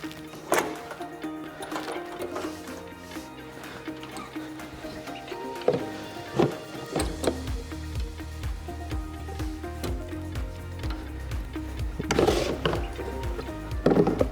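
Modular mesh conveyor starting up and running, with clattering mechanical knocks early on, then a steady rapid rhythmic ticking drive from about seven seconds on, close and moderately loud.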